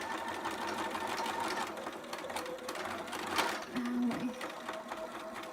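A home sewing machine that needs maintenance stitches fabric with a steady mechanical whir, then gives a brief motor whine near the end, close and moderately loud.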